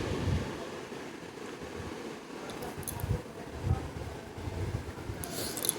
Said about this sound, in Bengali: এবার আমি খুব ভালো করে এগুলোকে পরিষ্কার করে নেব, মাশরুমগুলোকে।